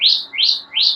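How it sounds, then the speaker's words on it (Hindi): A small bird gives three quick rising chirps in even rhythm, close and clear, outdoors near a home with nothing else audible. "कितनी अच्छी आवाज आ रही है चिड़िया की।"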